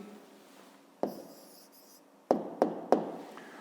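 Pen or pencil writing out the answer to a fifth-grade math exercise on paper, a few short scratchy strokes followed by three sharp taps close up, quiet and alone.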